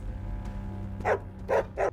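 Three short barks from a person imitating a dog, spaced a beat apart after a quiet start, fairly close and moderately loud.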